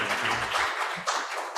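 Conference audience at a medical congress applauding to welcome a speaker, a brief steady patter of many hands at a distance, fading quickly.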